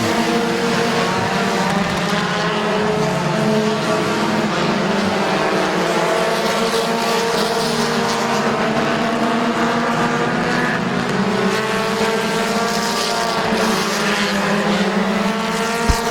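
Race cars roar around Midvale Speedway in a close battle for the lead, several engines droning loud and steady with shifting pitch as the pack passes, with no gaps in the noise.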